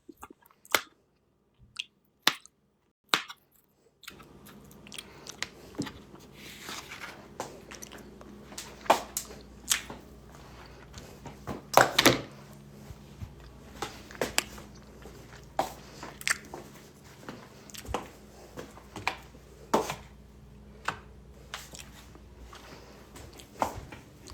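Close, wet chewing and crunchy bites from a mukbang of avocado, rice, beans and peppers, with sharp snaps at the start, then a steady stream of smacking mouth sounds over faint background noise.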